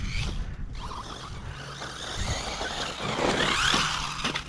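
Hobao Hyper Star RC car with a 2400kv six-pole 4268 brushless motor on 4S power, driving with a continuous whine and buzz that surges and fades as it passes and turns.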